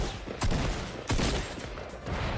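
Gunfire in Fortnite strikes the Lard Lad donut sign, with a couple of sharp, fairly loud bursts against a dense, steady background of game noise.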